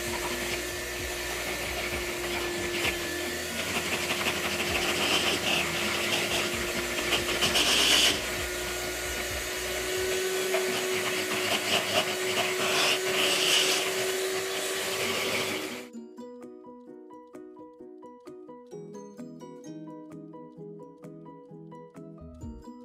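An electric mixer whirs steadily through cupcake batter for Lucky Charms cupcakes, a loud, continuous near drone lasting about sixteen seconds before it stops abruptly and light music takes over.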